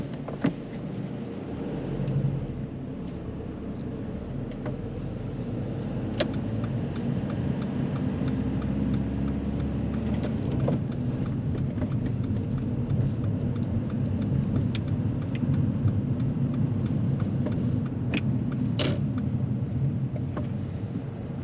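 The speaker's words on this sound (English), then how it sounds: "As we're going round this roundabout, the next set of traffic lights start changing to red as we're approaching." A car rounds a roundabout during a driving test, heard from inside as a steady engine hum and road rumble that holds evenly throughout, with light clicks and no speech.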